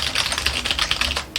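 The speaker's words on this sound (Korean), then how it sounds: "일반적인 그냥 키보드 소리를 들어보시면" Typing on an ordinary computer keyboard gives a rapid, steady stream of crisp clacking keystrokes, close and fairly loud, with a short pause near the end before more keys are struck.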